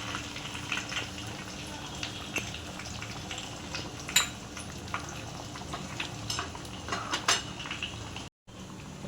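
Garlic and cumin frying in oil for a masoor dal tadka, a low sizzle under clinks of a spoon against the pan and a few sharp metallic taps, with a voice speaking faintly.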